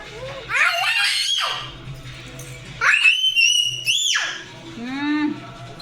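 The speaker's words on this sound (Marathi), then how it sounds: "काय मस्ती आहे, एवढं ओरडतात का?" A child screams loudly in shrill, rising bursts several times, with short gaps between them, in a home setting.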